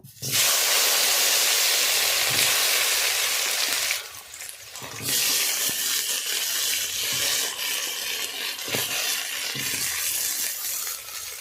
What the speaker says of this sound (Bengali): মাছ ভাজা হয়ে গেছে, ওই তেলে আমি খামগুলো ভেজে নেব।